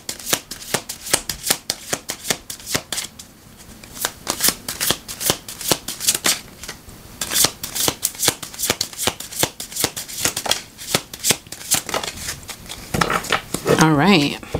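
Tarot cards are shuffled in repeated crisp riffling bursts and slaps, close and loud, with a short spoken voice near the end.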